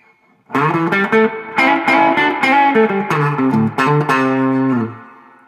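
A Gibson ES-335 electric guitar with both pickups on at full volume and mild distortion plays a lively riff of picked notes and chords, ending on a sustained ringing chord.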